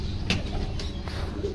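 Pigeons cooing softly at a bird seller's in a Rampuri, golden and Ferozpuri pigeon trade, a few low coos rising over a steady background murmur.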